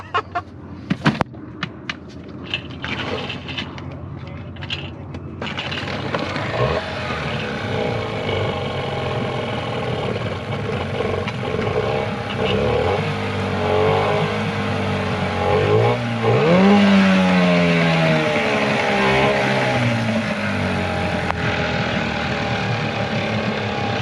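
A cold boat engine starts with a few sputtering catches, then settles into a steady, slightly rough running drone that continues loud and close throughout.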